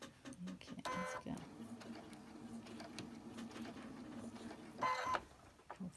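Sewing machine stitching fabric, running in a steady mechanical hum with bursts of faster whirring at the start and near the end, faint with small handling noises.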